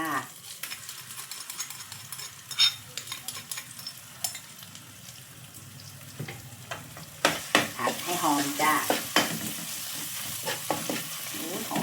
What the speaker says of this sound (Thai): ตามด้วยพริกกับกระเทียมเอาไปผัดค่ะ หลังจากเขาผัดพริกแล้วแล้วเขาก็ใส่พริกเผาลงไปจ้า